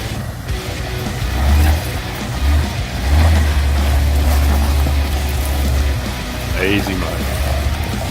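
A 4x4 off-road vehicle labors up a hill on a trip down the Ashley, its engine droning loudly with surges as it revs, while people talk nearby.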